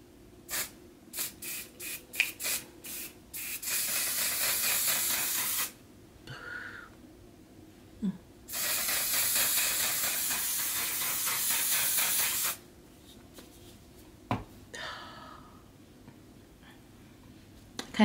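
One Size On Til Dawn setting spray misted onto a face in two long, steady hissing bursts, close and fairly loud, with a few short spritzes and light handling taps around them and no talking.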